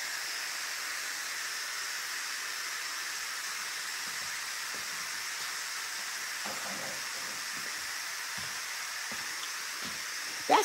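Steam hisses steadily from the release valve of an Instant Pot cooking chicken and noodles, a continuous close, even hiss that runs without a break, with a few faint clicks and knocks in the background.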